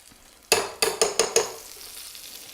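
A spoonful of butter lands in a hot frying pan with browned bits left from cooking, giving five sharp clattering hits that settle into a soft, steady sizzle.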